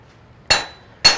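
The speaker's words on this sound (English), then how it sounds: "as I'm hammering on it, I am condensing it" A blacksmith's hammer strikes a hot steel knife blade twice, each blow a sharp, close metallic ring, spaced about half a second apart, with no talk.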